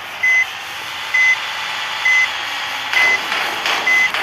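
A vehicle backing up on a small road gives five evenly spaced, loud reversing beeps over a steady engine hum, with no voices.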